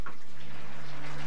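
Water runs from a tap in a steady, brief hiss of flowing water over a low constant hum, heard close for a moment.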